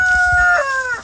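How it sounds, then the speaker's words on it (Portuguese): Chickens and a rooster on a farm make a short burst of clucking and crowing-like calls, a few drawn-out tonal cries close by with faint low thumps beneath, and no talking. "Olha as galinhas"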